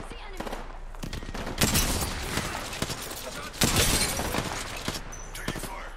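Video game gunfire comes as rapid bursts of shots and crackling volleys, with two heavier, louder stretches standing out against a busy background of distant combat noise.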